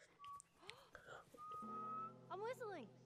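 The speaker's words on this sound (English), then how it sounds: "I'm whistling." A character in the video game The Last of Us whistles a short tune, clear sliding notes near the listener with sparse game ambience and a brief voice underneath.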